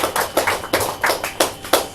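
Several people at a Korean church service clap in steady, rhythmic unison, about six sharp claps spaced evenly, fairly close and loud with no talking.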